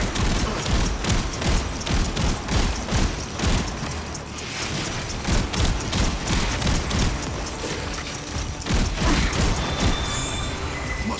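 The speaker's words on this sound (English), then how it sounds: "Hey, stop shooting at me." Rapid bursts of gunfire from the Warframe video game crackle almost continuously, dense volleys layered with mechanical clatter and game effects at a steady loud level.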